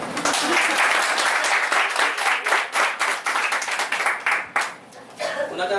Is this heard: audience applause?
yes